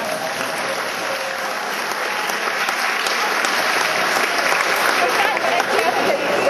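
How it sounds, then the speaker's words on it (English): A crowd applauding steadily, a dense wash of clapping that holds and swells slightly toward the end. "That may be the last applause I get,"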